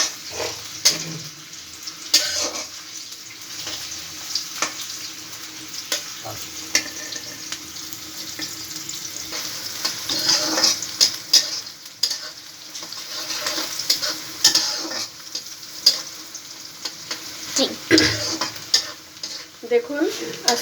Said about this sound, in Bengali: দেখুন তেলটা দিয়ে আমি পেঁয়াজগুলো বাদামি কালার ভেজে নেব।